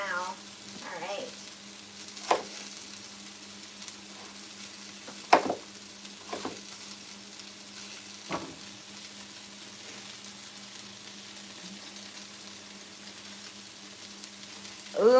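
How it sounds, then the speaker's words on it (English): Steady soft sizzling of potatoes frying in a pan, a continuous crackling hiss with a few louder pops and clinks scattered throughout. "the potatoes are frying now"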